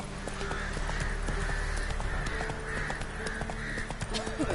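Steady hoofbeats of the horse Roach galloping in a video game, a continuous rapid clop rhythm with crow-like caws and ambient game sound layered over it, a voice briefly speaking.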